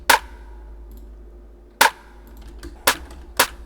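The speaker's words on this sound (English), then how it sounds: "Then the 2 snares sound like this." Two snare drum samples hit sharply and crisply, four isolated strikes spaced unevenly with short decays and near silence between them.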